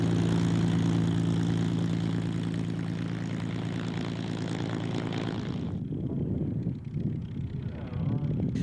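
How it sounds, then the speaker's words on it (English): Two P-51D Mustangs pass at an airshow at Duxford. Their Merlin engines give a loud, crackling propeller roar that holds and then drops away sharply after several seconds, leaving fading rumble and wind. "More Merlin engines crackled towards their display, only this time in the two"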